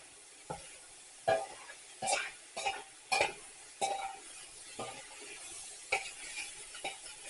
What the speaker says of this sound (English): And you hear that sizzle?